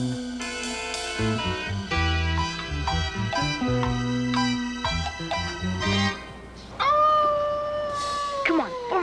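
A coyote howl rises and wavers near the end, preceded by several seconds of layered, steady tonal sound.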